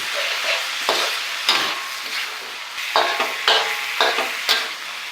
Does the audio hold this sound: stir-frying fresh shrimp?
yes